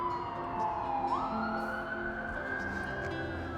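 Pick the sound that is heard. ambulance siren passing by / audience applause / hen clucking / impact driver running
ambulance siren passing by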